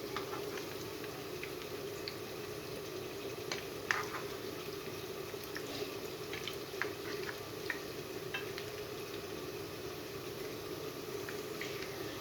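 Onion fritters (peyaju) frying steadily in oil, a soft continuous bubbling sizzle with occasional faint clicks and scrapes as they are turned, fairly quiet and close, with no one talking.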